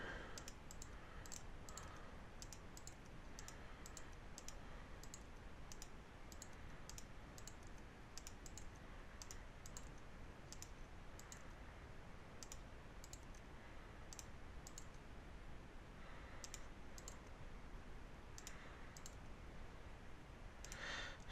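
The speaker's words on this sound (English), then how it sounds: "I'm just right-clicking on the vertex and hitting G to move it." Computer mouse clicks and keyboard key presses while vertices are edited in Blender 3D modeling software, sounding as sharp, irregular close clicks and taps repeated throughout over steady faint background hiss.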